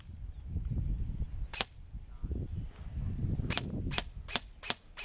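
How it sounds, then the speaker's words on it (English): Gunshots from someone shooting nearby on guard duty at an airsoft or milsim event, several sharp cracks at a moderate distance, one alone and then a quick irregular cluster toward the end. "There's some guy shooting over there."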